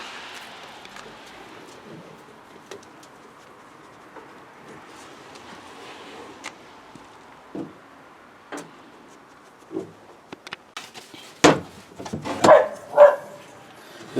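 A dog barks at people walking by outdoors. The barks come as scattered single yaps that grow more frequent and louder toward the end, over quiet background noise.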